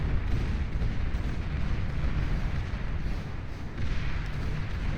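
Incinerator units in the Beyond All Reason strategy game blast medium tanks with a steady, dense roar of heavy fiery bursts and rumbling explosions, loud and continuous with a few swells, and no talk over it.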